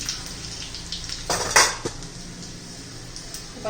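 Mustard seeds and cumin drop into hot oil with garlic for an onion chutney, giving a short burst of crackling, spattering sizzle mixed with a pan and utensil clatter, close and fairly loud, with no voices.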